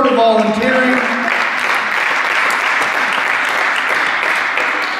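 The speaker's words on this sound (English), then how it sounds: "Give them a big round of applause for sort of volunteering." Loud, steady applause from a crowd at a high school post-prom event fills the whole stretch, with a few voices and a cheer rising briefly at the start.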